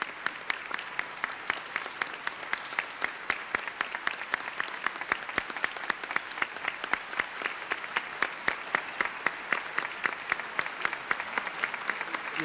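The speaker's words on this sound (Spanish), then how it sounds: "Con un caluroso aplauso, el pueblo de Dios de la Arquidiócesis de Buenos Aires recibe en este momento" Warm applause from a large church crowd in Buenos Aires welcoming a new archbishop, with dense rhythmic clapping that holds steady throughout, heard at a moderate distance.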